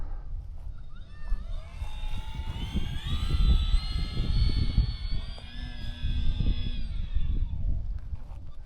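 A Durafly Tundra V3 radio-controlled plane makes a low pass, its electric motor whine rising and falling steadily against wind buffeting on the onboard mic.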